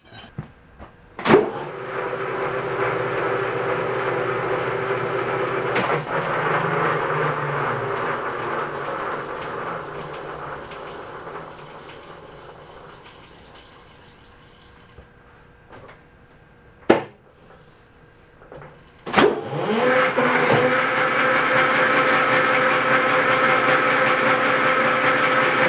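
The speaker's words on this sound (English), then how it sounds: "you can hear them spur gears really working back there" Spur gears on an American crane working under load, a mechanical whirring drone that rises, fades and returns with sharp clanks between runs, heard close with no talk.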